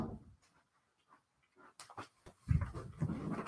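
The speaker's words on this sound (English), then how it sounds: "The dogs are barking, of course." Dogs carry on nearby in a quiet room, with a few faint whimpers and soft sounds early on, then louder, rougher barking and huffing that grows denser toward the end.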